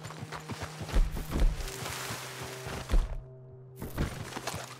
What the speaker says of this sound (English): I'm about to shoot this horse if he doesn't calm down.